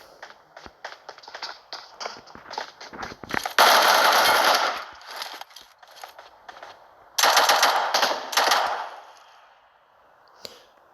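Assault rifle fire in PUBG Mobile, AK and M7-type guns, crackling in rapid automatic bursts with two long loud volleys and shorter scattered shots, close and dominant, with no talk.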